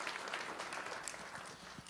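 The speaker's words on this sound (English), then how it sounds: "You can clap on that." Applause from an audience at a civic event with Buffalo police leadership, a faint, steady wash of many hands clapping at a distance, brief and without voices.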